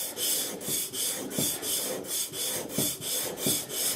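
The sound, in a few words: sharpening strokes on a blade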